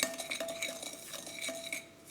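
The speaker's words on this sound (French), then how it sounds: "Et là, on commence à mélanger de manière très magnifique." Butter and sugar being mixed in a bowl: quick, irregular clinks and scrapes of a utensil against the bowl, soft and close, without talk.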